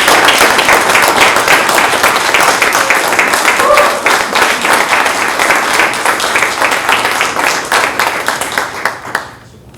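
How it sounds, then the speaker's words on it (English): Audience at a Masonic lodge installation ceremony applauding the newly installed officers, loud sustained clapping that thins and fades toward the end. "Let's give them a round of applause."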